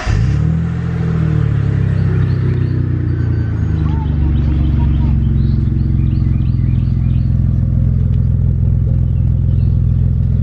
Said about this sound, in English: The GTO is a little bit louder now. Do a quick startup.